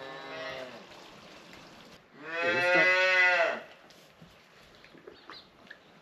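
A cow that has just calved lets out two moos on a farm, a shorter call followed after a pause by a louder, drawn-out bellow, with quiet surroundings in between.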